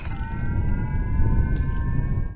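An air raid siren during a Japanese missile evacuation drill, sounding as a steady sustained wail over a loud low rumble of background noise throughout.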